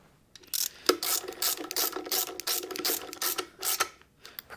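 Ratchet snugging down intake manifold bolts on a Magnum 5.9L air gap intake swap for a 1980 Dodge W200, quick rapid clicking strokes in several short bursts, close and clear with no talk.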